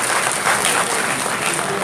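A seated audience at an immigration information forum in Togo breaks into dense, steady applause, loud and continuous for the whole moment.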